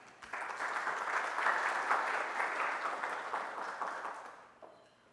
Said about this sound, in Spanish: recibámosla con nuestros aplausos